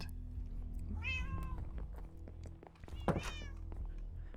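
A cat in the Minecraft video game meows twice, clear rising-falling calls spaced about two seconds apart over a steady low in-game background hum.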